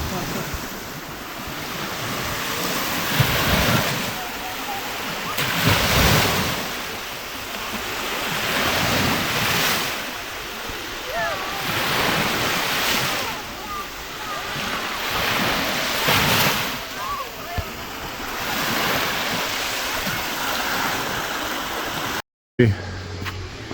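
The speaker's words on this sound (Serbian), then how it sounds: "Uz ovaj zvuk talasa" Sea waves wash onto a beach in repeated surges every few seconds, with wind buffeting the microphone, ending in a brief cutout.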